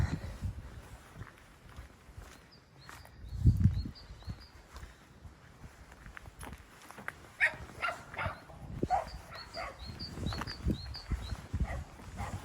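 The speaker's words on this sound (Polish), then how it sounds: "pieski się zdenerwowały na mnie, bo przechodzę koło ich posiadłości." Small dogs bark at someone walking past their property outdoors. The barks come in faint, scattered bursts at a distance, with footsteps and light outdoor rustle between them.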